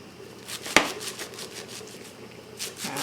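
A knife slices through bunched Ghanaian taro (kontomire) leaves held in hand, giving one crisp, sharp cut followed by softer, quieter slicing strokes, close by and without talk.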